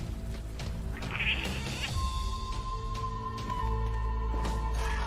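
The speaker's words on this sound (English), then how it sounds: "kitty." A cat gives a faint, drawn-out meow at moderate distance, heard over a steady background hum.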